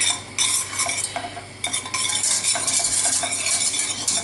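A metal whisk rattles and scrapes briskly around a pan while stirring a sauce for macaroni cheese, with close, rhythmic clinking bursts and a short pause partway, no voices.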